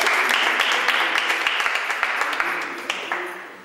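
Studio audience applauding a guest on a local television football show, a dense burst of hand clapping that starts loud and gradually thins out.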